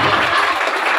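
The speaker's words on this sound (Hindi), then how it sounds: "तालियां बजा देंगे," A crowd claps loudly for a second-place winner at a youth festival prize announcement, a dense burst of applause that fades quickly.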